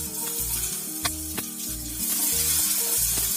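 Garlic and onion sizzle and crackle in hot oil in a pan while a curry of drumstick leaves and vegetables is being made. The frying is steady and close, with a few sharp pops and a low rhythmic thumping under it.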